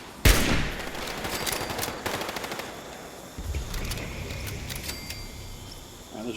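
Rapid gunfire in the video game Fallout 76 during a fight at a brainwave siphon: a loud opening burst, then steady stuttering automatic fire with brief gaps, continuing to the end.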